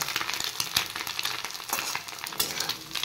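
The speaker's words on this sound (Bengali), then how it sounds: "রুটির সাথে করছি আলু পেঁয়াজ আর ডিম ফ্রাই" Potato, onion and egg fry together in a hot pan to go with buttered roti, giving a dense, close, continuous sizzle broken by the clatter of stirring, with no voices.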